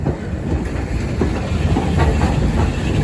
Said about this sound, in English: There's the locomotive, 73156. Going down to the points to switch onto the front of our train there.